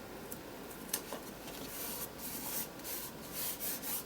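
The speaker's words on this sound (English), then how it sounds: "Just use my finger to rub the character down" A finger rubs a paper cutout character down onto an art journal page, giving a steady close scratchy friction with small bursts, quiet and alone.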